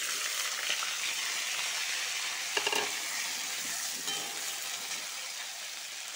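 Potato and vegetable stems frying in hot oil, a steady close sizzle with stirring scrapes and a few sharper clicks of a utensil against the pan.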